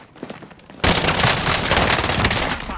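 An LC10 submachine gun fires in a Warzone match as one sudden, loud, sustained burst of rapid shots that keeps going after a quieter opening moment.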